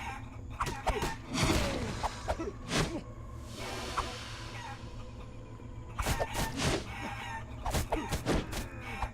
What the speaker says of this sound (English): Good, you can still whack the chickens about.